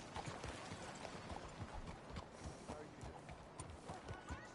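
Horse hooves clip-clopping in Red Dead Redemption 2, a steady dense patter under a loud wash of game ambience, with talk over the top.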